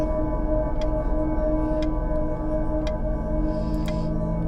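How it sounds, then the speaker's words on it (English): An antique clock in the video game Serena ticks steadily at about one stroke per second, with sharp regular ticks set against a sustained tonal drone and no voices. "Okay, clock's going off, so apparently we need to go see the clock."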